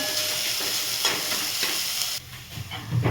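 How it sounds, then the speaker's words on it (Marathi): A paste of ginger, garlic and chili fries in hot oil as part of a ridge gourd and lentil dish, giving off a steady loud sizzle and hiss that briefly dips, then comes back with stirring. "आपण थोडंसं ह्याला पण फ्राय करून घेऊया"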